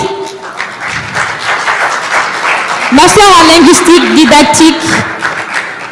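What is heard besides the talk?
applause for graduating student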